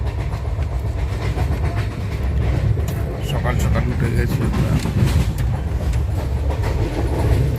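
A moving passenger train on a multi-day journey gives a steady, loud rumble with rhythmic clickety-clack of wheels on rail joints, heard from inside a carriage while a person speaks over it.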